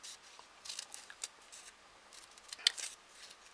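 Scissors cut paper for snowflakes and garlands, quick crisp snips and rustles in irregular bursts, close and quiet with no talk.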